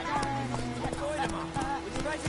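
Rapid, rhythmic hoofbeats of Geralt's horse Roach running in The Witcher 3, clear clip-clop strikes over a background of sustained musical tones and game ambience.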